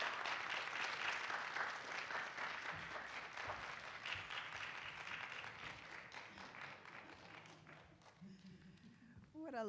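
An audience applauds steadily as an author comes to the stage at a literary reading event in Durham, the clapping fairly faint and tapering off, with a voice beginning to speak at the end.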